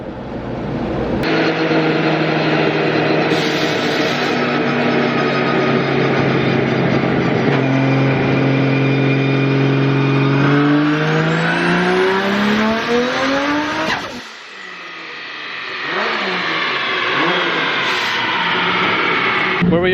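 A 2JZ-powered Nissan S15 drift car running on nitrous revs loud and close, its engine tone climbing and holding in long sweeps, then dropping off and rising again, with a voice talking over it.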